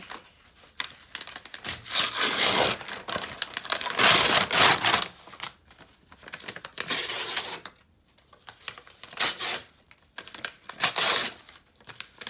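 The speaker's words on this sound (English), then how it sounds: "I'm using a paper bag, so I'm going to tear this up into strips" A paper bag being torn into strips in repeated bursts, with crisp ripping and crinkling, close by, with short pauses between tears.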